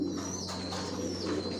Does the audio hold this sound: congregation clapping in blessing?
no